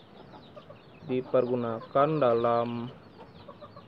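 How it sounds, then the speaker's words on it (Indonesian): An ayam bulu tulak, a Balinese chicken whose feathers grow reversed and curl upward, gives a few close, drawn-out clucking calls in quick succession, with a person speaking faintly nearby. "Biasanya ayam tulak ini"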